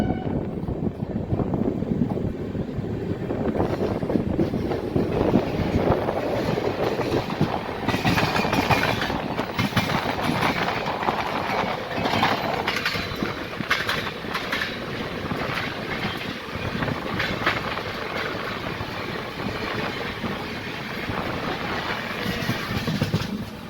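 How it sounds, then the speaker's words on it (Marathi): The 11301 Udyan Express from Mumbai to Akkalkot, pulling out of Karjat, rumbles along the rails with a steady, loud roar and rattling clatter for the whole stretch, with wind noise and no voices. "कर्जतवरून आपली ट्रेन निघालेली आहे"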